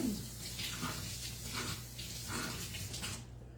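A kitchen tap runs steadily while a knife is rinsed under it, the water hiss soft and continuous with faint clinks, quiet and without voices.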